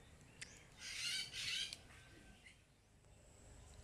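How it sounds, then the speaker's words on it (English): Birds squawking outdoors near a papaya tree, with a few faint, short harsh calls clustered together over quiet background ambience. "I was wondering where is that sounds of birds are coming."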